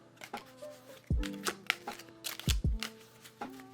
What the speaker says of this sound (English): I will put it into my deck, shuffle it up.